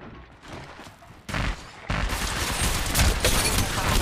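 Rapid, loud gunfire crackles in Apex Legends Mobile, starting with a short burst and then becoming a sustained barrage of close shots that fills the rest of the moment.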